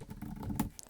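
Brief burst of typing on a computer keyboard during spreadsheet data entry, a quick patter of several close, soft keystrokes.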